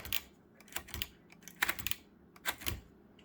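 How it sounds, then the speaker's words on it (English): A repaired Royal manual typewriter is typed on up close, its keys striking in irregular clacking bursts with short pauses between them. "Pretty cool little typewriter."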